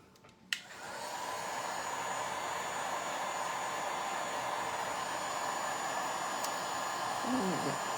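A hair dryer switches on after a click and blows a steady, close whooshing hum to dry paint, running continuously, with a faint voice briefly underneath near the end.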